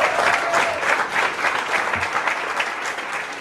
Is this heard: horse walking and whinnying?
no